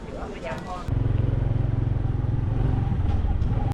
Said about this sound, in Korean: 이제 오토바이 타고 숙소 이동할게요